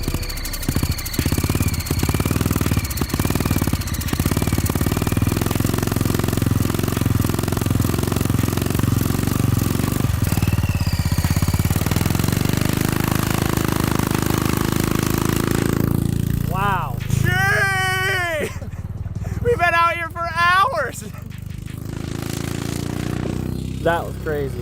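Small engine of a sand vehicle running after a carburetor and clutch adjustment, a loud close rough idle that wavers, then fades out as the engine dies, with someone talking over the latter part.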